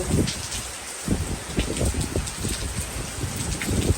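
Morning rain falling outdoors, a steady dense patter of drops on surfaces with scattered louder splats, close and continuous, with no voices.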